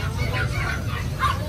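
Dogs yip and bark in short bursts at a busy pet market in Grotto, with a crowd babbling and voices talking close by throughout.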